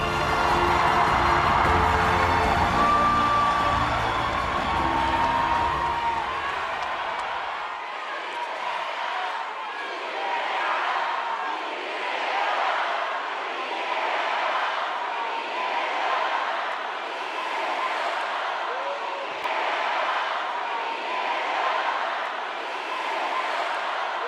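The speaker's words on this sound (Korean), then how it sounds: "뜨거운 박수로 맞이해 주시기 바랍니다." A large outdoor crowd at a presidential campaign rally cheers and claps as candidate Lee Jae-myung takes the stage, a sustained roar with rhythmic chanting waves, music playing underneath at first.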